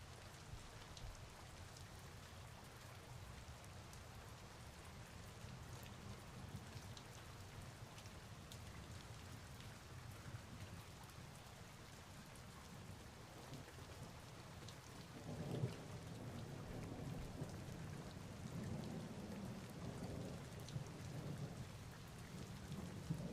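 Steady rain pours down with low rumbles of thunder rolling underneath, a soft continuous storm wash that grows slightly heavier toward the end, faint and distant with no voices.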